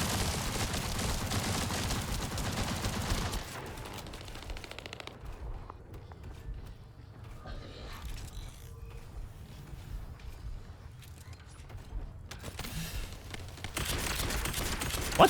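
Sustained automatic gunfire bursts in the shooter game The First Descendant, loud and dense at the start, thinning to scattered shots mid-way, then picking back up toward the end, with no voice over it.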